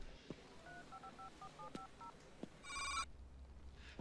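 A telephone is dialed, a short run of keypad tones in an uneven rhythm, each tone brief and moderately loud over a quiet room background.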